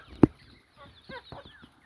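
Native desi chickens on a small poultry farm give a sharp knock, then a scattered run of soft, low clucks at close range with quiet gaps between.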